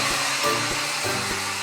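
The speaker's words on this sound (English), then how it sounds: "hair dryer" A hair dryer blows with a steady, loud whirring hum, its tone wavering slightly throughout.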